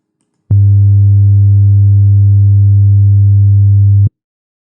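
A steady 100 Hz low-pitched sine test tone sounds alone for about three and a half seconds, a loud continuous hum with clean onset and cutoff and silence on either side.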